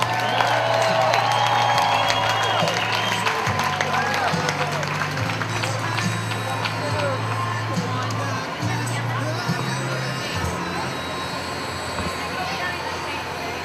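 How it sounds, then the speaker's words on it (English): A large crowd at the 143rd annual Fourth of July parade in Modesto, California cheers for a flag drop, a broad roar of voices that slowly fades, heard under an announcer speaking over a loudspeaker. "Let's give a big cheer for that flag drop one more time."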